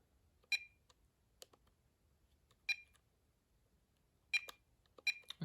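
A VTech dual-handset analog 5.8GHz cordless phone sounds sharp speed dial beeps, a handful of short, clean tones spaced irregularly over near silence, with faint button clicks between them.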